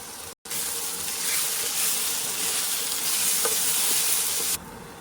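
Potato, carrot, chopped tomato and green chilli fry in a pan, giving a steady loud sizzle with a few faint stirring clinks. A brief gap comes near the start and the sizzle cuts off just before the end.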